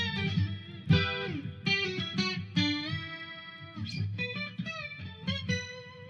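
A Line 6 Variax JTV-89F guitar plays a lead solo on its acoustic setting, with bright plucked notes and quick runs ringing in a steady melodic line, fairly close, with no voices.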